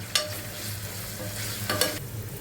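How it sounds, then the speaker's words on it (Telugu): Ginger garlic paste is stirred into a frying batani aloo curry of peas and potatoes, with two brisk scraping bursts of the spoon over a steady, close sizzle. "ఇప్పుడు 1 స్పూన్ అల్లం వెల్లుల్లి పేస్ట్ వేసుకొని బాగా కలుపుకోవాలి."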